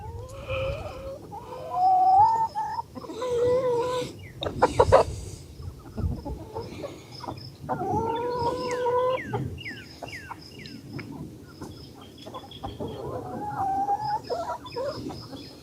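Chickens released from their run cluck and squawk continuously at close range, with overlapping calls and a few sharper cries across the whole stretch.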